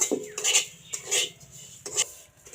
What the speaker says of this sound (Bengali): চিনিটাও ভালোভাবে এইভাবে নাড়িয়ে নিব